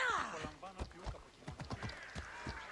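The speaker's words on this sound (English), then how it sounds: "Why are you jumping in front of the horse?" Horse hooves clip-clop in uneven steps alongside a brief whinny in the video game Assassin's Creed Odyssey, with a person's voice talking over parts of it.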